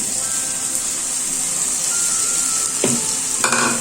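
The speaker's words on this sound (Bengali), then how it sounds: "এই সময় আমি মশলার মধ্যে দিয়ে দিচ্ছি আগে থেকে ভেজে রাখা আলু ও কাঁকরোলগুলো।" Pre-fried potatoes and kakrol (spiny gourd) drop into hot oil and spice masala, setting off a loud, steady sizzle with a sharper crackling burst near the end.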